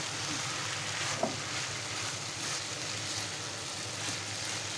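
Long beans frying with shrimp in a pan give a steady, even sizzle and crackle at moderate level throughout, with one small tap near the start and no voices.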